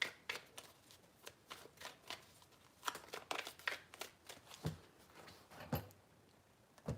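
Tarot cards are shuffled in quick riffling bursts, the crisp flutter and snap of the deck coming in short clusters, close and fairly quiet, with no one speaking.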